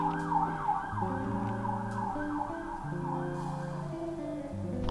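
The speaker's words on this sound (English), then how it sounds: "Sirens." Several emergency vehicle sirens wail at once, their overlapping rising and falling tones steady and fairly loud, with road traffic rumbling beneath and no talking.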